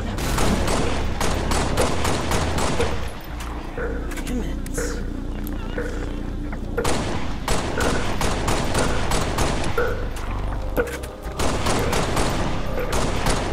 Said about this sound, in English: Hostile fire on my position.